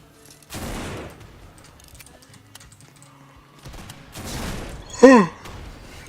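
Musket shots in the video game Sector Wars, two brief sharp reports a few seconds apart standing out over quiet game background, with a short whistling sweep after the second.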